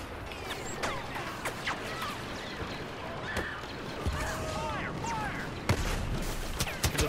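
In a Star Wars video game, scattered blaster and gunfire bursts crack over a busy battle, and a sharp grenade blast lands near the end. A voice is faintly present in the background.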